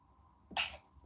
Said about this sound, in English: I'm sitting here sneezing on the chat